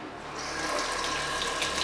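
Tap water running steadily over strawberries and rhubarb being washed in a sink, a continuous close hiss and splash with no talk.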